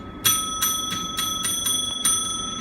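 A small bell rings rapidly and repeatedly, each bright ding following closely on the last, loud and close.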